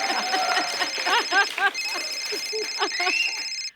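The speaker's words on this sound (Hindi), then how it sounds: "ये मेरा फोन बजा।" A mobile phone rings with a repeating electronic ringtone of bright, stepped chirps that cuts off abruptly, sounding close and loud in a studio comedy show setting.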